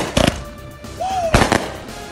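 A consumer firework named Back the Blue, set off at a high school football event, gives two sharp, loud bangs about a second apart, with a brief rising whistle between them.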